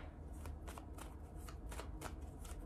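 Tarot cards being shuffled by hand, a run of crisp riffling bursts in a fairly even rhythm, close and clear with no talking over them.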